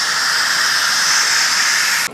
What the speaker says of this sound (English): I'm gonna go ahead and let off the rest of the pressure.